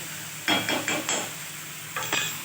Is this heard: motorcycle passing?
no